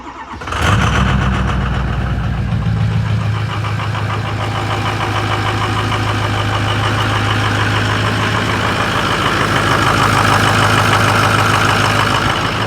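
A 6.0 diesel truck engine cold-starts on a 38-degree morning, cranking briefly before catching and settling into a steady, loud, rumbling idle that carries on alone close by.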